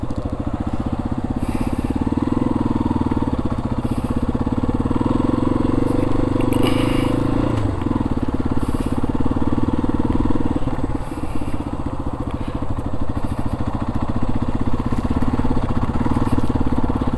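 A Yamaha XT250 dual-sport motorcycle is ridden along a road, its single-cylinder engine droning steadily and close with a rough, throbbing note, rising briefly then easing off, with wind rush over it.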